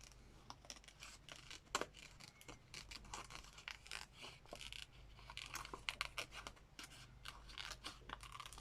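Scissors cutting thin, plasticky paper for a collage, a close, quiet run of crisp snips and crinkly rustles in an irregular rhythm, with no talking.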